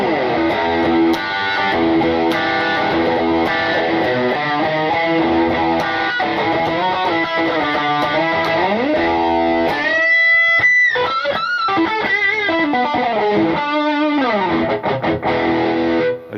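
A distorted electric guitar plays chords and riffs through a Blackstar HT5 tube amp set bright, loud and crunchy, with a bending lead phrase midway.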